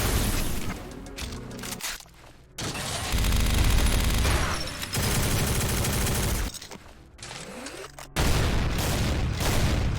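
Rapid weapon fire in the Doom mod God Complex for GZDoom, with loud, dense bursts of booming shots that run almost continuously and break off briefly a few times.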